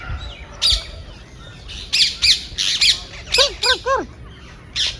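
Parrots give a string of sharp, harsh squawks outdoors, several short calls in bursts, fairly close, with no talking.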